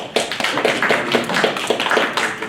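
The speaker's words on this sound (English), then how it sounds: "Applause" Audience applause at a talk on memorable coffees and brewing, steady dense clapping from a crowd filling the whole moment, with rhythmic individual claps standing out near the front.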